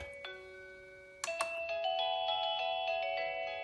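Battery-free smart doorbell playing its chime tones, a short electronic ding followed by a ringing melodic sequence of sustained bell-like notes, clear and moderately loud with no talk.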